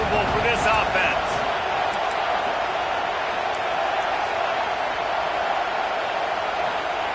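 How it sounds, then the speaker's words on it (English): Steady, dense stadium crowd roar fills the whole stretch at a college football game in the NCAA 26 video game, loud and constant with a few brief sharper accents early on. "This crowd trying to make life miserable for this offense."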